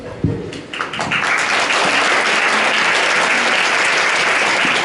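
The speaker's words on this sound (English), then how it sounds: "That applause is for you." An audience at a convention panel bursts into applause after a brief quiet start, swelling into loud, dense, continuous clapping that fills the room.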